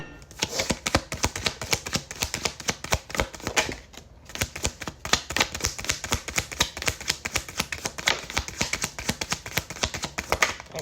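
A deck of cards is shuffled nonstop in rapid, crisp clattering bursts, close up, with one brief pause partway through before the dense flicking resumes.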